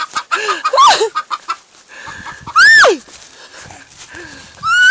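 Chicken clucking and squawking up close in a family yard, loud bursts with rising calls at intervals, mixed with children's voices and talk.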